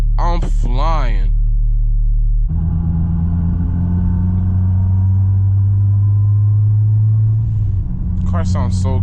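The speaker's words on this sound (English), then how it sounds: "Car sounds so good." A tuned 600hp Honda Civic Si engine hums steadily at a low pitch, loud and close, with a short voice at the start and end.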